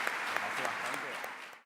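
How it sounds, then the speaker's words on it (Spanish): Applause from an audience at a talk on gender-perspective investigation criteria: dense, steady clapping from many hands, loud and even, cutting off abruptly after under two seconds. "Me aplaudo yo."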